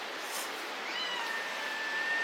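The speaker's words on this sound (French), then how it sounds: "Il y a le petit chat qui miaule." A small cat meows several times, with thin high cries rising above a quiet outdoor background at sunset on Réunion, faint and alone without any talking.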